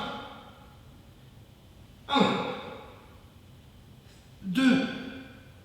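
Two deep, audible breaths during a break in an abdominal yoga workout, each a strong exhale roughly two seconds apart, close and clear over a quiet room.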